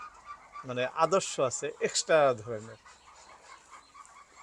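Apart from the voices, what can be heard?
Chinese ducks calling inside a duck farm shed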